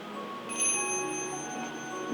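A single bell used in a seance demonstration is struck once, leaving a clear, high ringing tone that lingers and slowly fades, with no talking.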